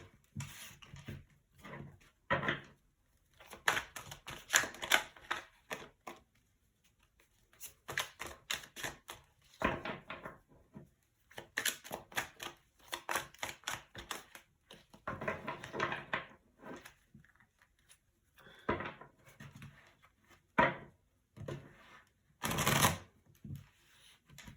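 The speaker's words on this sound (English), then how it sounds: "I'm just shuffling the cards and getting settled into the energy" Repeated bursts of tarot cards being shuffled and riffled, crisp papery flutters and taps coming in irregular clusters with brief pauses between, close and fairly quiet.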